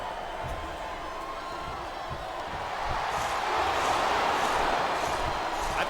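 Arena crowd cheering in the PS2 wrestling game WWE 2008 during a Sandman versus Sabu match, a dense continuous roar that swells louder midway, with thuds and commentary-like talk underneath.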